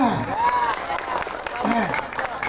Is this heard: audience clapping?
yes